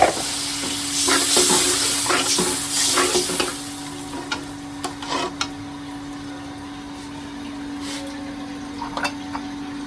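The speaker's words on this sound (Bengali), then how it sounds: "একটু পানি একটু দিয়ে মশলাটা ভালোভাবে কষাই নেবো" Spice paste with a splash of water frying and being stirred in a pan for a home-cooked Bengali lunch with bottle gourd and fish; a steady sizzle with scraping stir strokes, louder in the first few seconds, then quieter with scattered spoon knocks and no talk.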